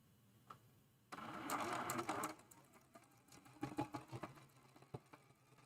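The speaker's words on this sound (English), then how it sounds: "And we're sewing." Sewing machine stitching neck tie fabric for a quilt block, a steady mechanical run from about one to two and a half seconds, then shorter start-and-stop bursts of stitching, close and clear with no talking.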